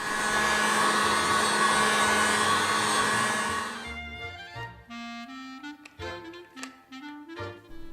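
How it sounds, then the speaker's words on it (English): A steady, loud blowing roar like a hair dryer runs for about four seconds, then cuts off, leaving quieter tonal clatter and scattered sounds. "In between, dry with a hairdryer."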